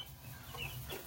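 Soft, low clucking from Australorp-cross chickens close by, a short burst of murmuring calls with no talking.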